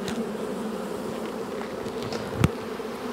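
Honeybees hum steadily around an opened hive in an April apiary, a dense, even drone close by that holds for the whole stretch, with one brief louder knock near the end.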